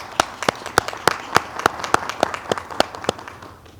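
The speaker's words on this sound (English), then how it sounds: "Let's give him a round of applause." A small audience at a university faculty and staff assembly claps in a sparse, fairly regular rhythm, with sharp, distinct hand claps standing out rather than a dense roar.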